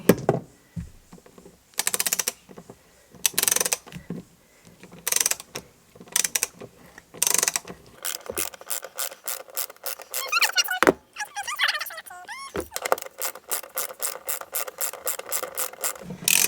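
A 12mm socket wrench ratchets on floor bolts holding the seats of a Toyota Coaster bus, giving bursts of rapid clicking and rasping between short pauses, then long runs of fast regular ratchet clicks, close and alone.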